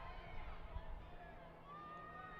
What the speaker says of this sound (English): You can hear the crowd in Audi Field rooting for their home side